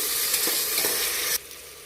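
Tomatoes sautéing in a pan for a vegetable coriander biryani, a loud close sizzle with quick stirring strokes that stops abruptly near the end and leaves quieter hiss.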